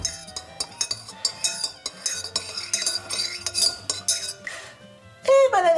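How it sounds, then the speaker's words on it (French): Small spoons stir and clink against a bowl while mixing, quick irregular metallic taps and scrapes close up, ending with a brief bright ringing chime. "Bon, maintenant, c'est l'heure du mélange. Alors, les petites cuillères."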